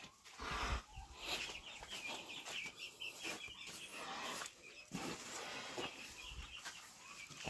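A turkey hen settled onto a nest of eggs gives soft, repeated clucks and low throaty calls at close range, set against rustling and faint background noise.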